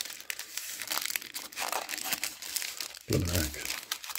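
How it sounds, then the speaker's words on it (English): Titanic model parts are unwrapped from their packaging with continuous close crinkling and rustling that swells into a louder crunch near the end, while a voice briefly speaks over it. "Let's get these unwrapped."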